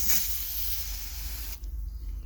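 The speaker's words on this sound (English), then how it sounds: "I'm probably gonna spray a little bit," A short hiss of spray onto a fabric baby cuff, a quiet steady burst lasting about a second and a half before it stops.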